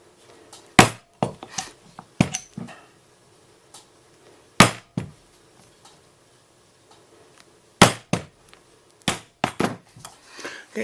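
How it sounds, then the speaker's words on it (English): A hole punch driven through leather saddlebag straps, giving about a dozen sharp, percussive clacks in irregular clusters, loud and close, with quiet pauses between strikes and no talking. "We'll take our hole punch now, and we'll go ahead and punch our holes."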